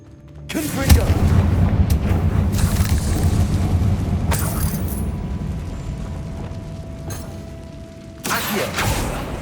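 Confringo blasting spell explosions in Hogwarts Legacy: a heavy booming blast rolls out and rumbles for several seconds, followed by another sharp explosive burst, loud and close.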